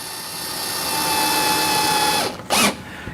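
A power drill drives screws into a VEVOR seven-tier rotating shoe rack tower, a steady whirring motor that runs close and loud, winds down, then gives one short burst before falling quiet.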